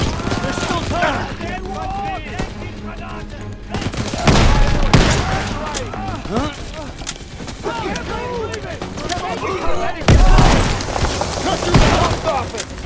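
Gunfire rattles through a Call of Duty battle: repeated loud volleys and heavy blasts strike around 4–5 and 10 seconds over steady shooting, with voices talking throughout.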